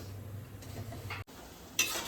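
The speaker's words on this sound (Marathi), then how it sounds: "तर इकडे मी पहिले पापड तळून घेते" Papad fenya fry in hot oil in a kadhai, a brief soft sizzle with a light scrape of stirring and a faint clink near the end.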